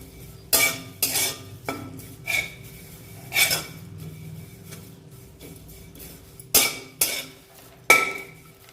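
Dry mace (rampatri) roasting in a pan for spice chutney, with about eight sharp metallic clinks and scrapes of a utensil against the pan, spaced irregularly over quiet background; close and no voices.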